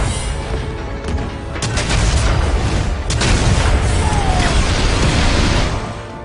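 Explosions and gunfire in the Starhawk video game: a dense, loud battle din with a few sharp cracks and booms standing out over a continuous roar of blasts and rumble.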